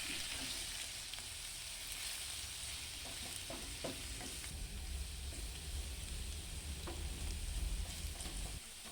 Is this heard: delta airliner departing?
no